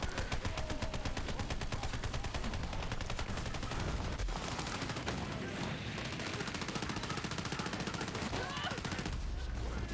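Rapid gunfire from the video game Borderlands rattles out in a dense, continuous burst of shots, fairly quiet in the mix, with a brief pause and denser firing near the end.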